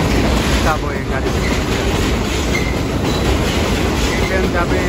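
Elevated subway train in Parkchester, the Bronx, rumbling past as a steady, loud broadband roar with faint rhythmic rail clatter throughout, close and continuous with no pauses.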